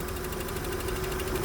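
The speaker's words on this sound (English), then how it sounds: "Sounds like those are the lifters." A Volvo 960 3.0 engine idles evenly and close by, a steady hum with a faint rapid ticking suggesting lifter noise.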